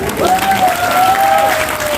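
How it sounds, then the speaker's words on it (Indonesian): A church congregation at an ecumenical Easter service applauds in a steady, loud wash of many hands lasting two seconds, with a sustained tone running through it. "tepuk tangan dulu untuk mereka"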